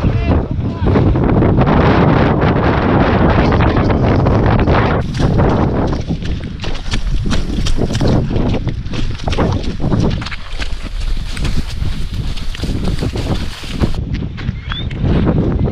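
Strong wind buffets the microphone outdoors in cold, foggy conditions at the start of the Transmartinique 2016 trail race, a loud, continuous roar with gusty swells throughout.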